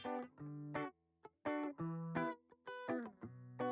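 Dry, unamplified direct-input electric guitar playing a short phrase of plucked notes and chords with brief gaps between them, thin and clean without amp tone, heard alone and close.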